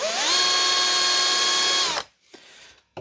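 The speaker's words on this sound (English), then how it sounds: "I'll try and drill that through with that little drill bit to start," A cordless hand drill with a small bit drills a hole in a workpiece held in a vise during fabrication work. It spins up to a loud, steady whine for about two seconds, then stops, followed by brief quieter handling noises.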